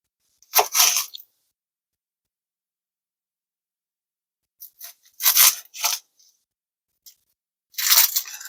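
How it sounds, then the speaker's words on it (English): A kitchen knife cuts through an onion on a cutting board, a few close, crisp crunching slices spaced apart in otherwise quiet, with no talk. "Now we're going to cut a little bit of onion."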